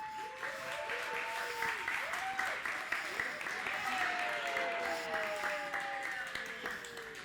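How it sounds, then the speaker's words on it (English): An audience at a live comedy show welcomes comedian Mr. Dixon to the stage with sustained clapping and shrill, rising whistles and screams, loud and close throughout. "Ladies and gentlemen, clapping and screaming,"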